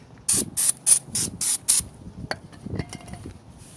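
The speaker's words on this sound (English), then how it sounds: "Just give it a nice spray." Six short bursts of aerosol spray hiss in quick succession, close by, on a 2004 Buick LeSabre's front brakes, followed by a few quiet handling clicks and knocks.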